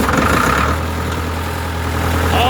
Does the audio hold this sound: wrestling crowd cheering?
no